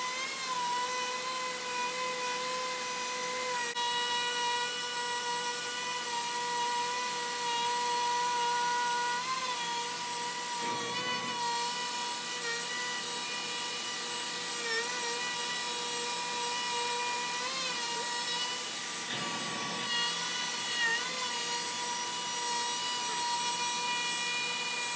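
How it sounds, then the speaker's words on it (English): A steady high-pitched whine of a router cutting handles into a wooden cutting board runs continuously and loudly, with two brief dips where the cut pauses. "I went a little bit deeper on the router bit."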